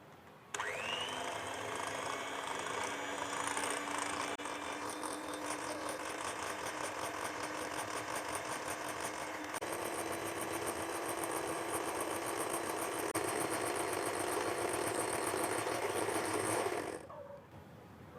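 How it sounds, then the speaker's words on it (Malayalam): An electric hand beater whips dalgona coffee made from coffee powder, sugar and milk, giving a steady, close, high-pitched whir that runs for about seventeen seconds before cutting off. "ഞാനിപ്പോൾ ഇവിടെ ഉപയോഗിക്കുന്നത് ഇലക്ട്രിക് ബീറ്ററാണ്"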